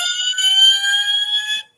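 A scratch-built model fire truck sounds its siren: a loud, steady electronic wail held for about a second and a half before cutting off abruptly.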